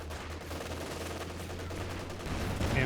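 Rattling machine-gun fire from a Maxim and a Panzer IV in Company of Heroes 2, a dense rapid burst of shots with heavier rumble building at the end, moderately loud and without voices.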